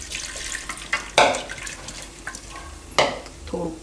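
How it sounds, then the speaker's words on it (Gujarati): Water poured into a pressure cooker pot holding salted potatoes for boiling in a home kitchen, heard as brief close splashes and gushes, two louder bursts among softer trickling, with no talking. "અને પાણી નાખશું."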